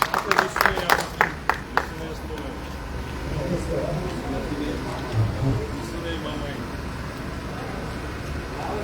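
A brief burst of applause from citizens greeting a visitor in Etchmiadzin rings out at the start, then gives way to outdoor street noise and people talking.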